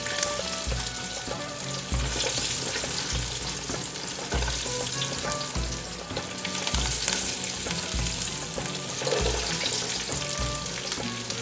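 Falafel frying in hot oil in a large fryer, a dense, continuous sizzle and bubbling with occasional low knocks, steady and fairly loud throughout.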